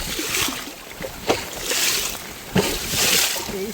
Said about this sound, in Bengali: নদীতে এত স্রোত যে নৌকা বেয়ে আগানো যাচ্ছে না।